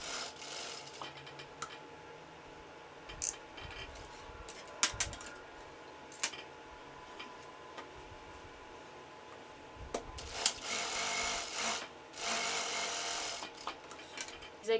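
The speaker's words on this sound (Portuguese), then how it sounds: "passar uma costura na máquina reta, deixando linha solta do outro lado" A straight-stitch sewing machine runs a seam along a shirt's sleeve opening, a soft steady mechanical whir with light clicks and a louder stretch of stitching near the end.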